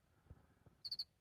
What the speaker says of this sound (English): there's like a cricket or a cockroach chirping in the background